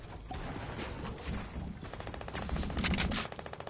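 A heavy assault rifle fires in a video game, cracking out loud, rapid automatic bursts that grow denser and more even toward the end, with no talk over them.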